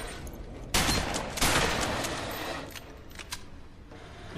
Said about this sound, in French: J'utilise le fusil à pompe, pourtant il peut faire mal.